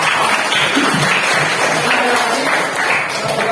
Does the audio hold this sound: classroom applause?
yes